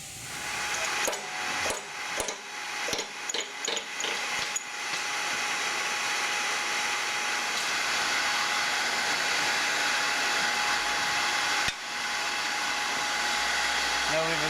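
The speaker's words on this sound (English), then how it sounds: "we'll take this one setup over to the bearing press, and then we'll go ahead and press that apart." A bearing press forces apart a shaft and bearing assembly from a Subaru STI gearbox, giving a run of sharp metallic clicks and knocks over the first few seconds, then a steady loud hydraulic whine that continues to the end.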